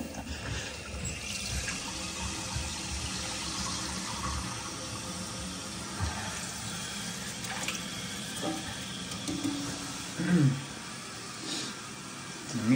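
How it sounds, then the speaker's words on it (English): Water rushes steadily through a household plumbing drain being flushed of calcium and iron buildup, a continuous wash with a few gurgles and splashes near the end. "We're gonna get a nice flush."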